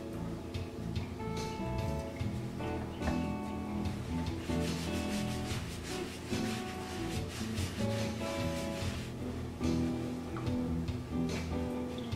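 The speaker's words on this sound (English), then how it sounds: "First, we clean the surfaces with a clean white towel and" Towel dampened with isopropyl alcohol rubbed over robot parts to clean them, a steady close scrubbing and rubbing sound running throughout, with no talk.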